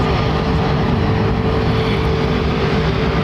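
Aircraft engine noise at London Heathrow Airport, a loud, steady broadband roar with a constant tonal hum, running unbroken and close with no talk.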